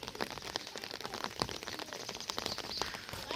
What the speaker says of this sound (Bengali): তার বৃষ্টি টিপ টিপ করতেছে